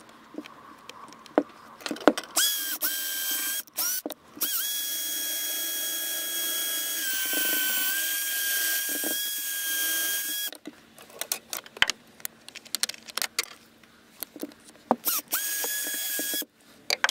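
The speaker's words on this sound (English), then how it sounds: "I have to drill a new one." A power drill bores a new hole through a wall for doorbell wiring, whining at a high pitch in several sustained bursts of a few seconds each. Short pauses with clicks and handling noises fall between the bursts, and the drill sounds close.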